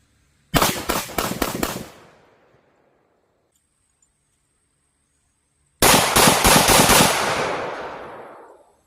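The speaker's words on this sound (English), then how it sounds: "This is rapid fire from 15 feet, starting off with full metal jacket." A Smith & Wesson M&P 45 Shield pistol fires two rapid strings of full metal jacket rounds outdoors at a range, about five loud sharp shots in each burst, separated by several seconds of quiet.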